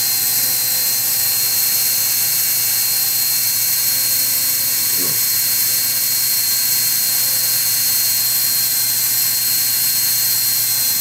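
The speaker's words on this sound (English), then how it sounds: "You want to use a polishing bonnet at super high speed." A polishing bonnet spinning at very high speed against wooden Cartier sunglasses frames gives a constant loud whine and hiss, with a short shift in pitch near the middle.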